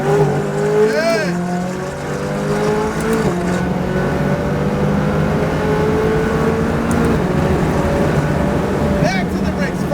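A McLaren 570 GT4 race car engine pulls hard on a track, its steady loud drone rising in pitch through several upshifts, with an instructor's voice talking over it.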